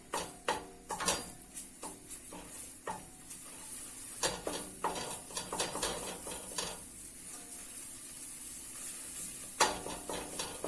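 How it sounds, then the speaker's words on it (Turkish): Tomato paste sautéed in a pan while being stirred for tomato soup: a soft sizzle runs under repeated spoon clicks and scrapes against the pan, close but fairly quiet, with no voices. "Şimdi domates salçasını ekliyorum. Kavurmaya devam."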